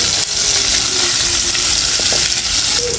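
Bell pepper with salt and pepper sizzles loudly in a hot pan while being stirred for pininyahang manok, a dense continuous frying hiss broken by the scrape and clack of a utensil against the pan.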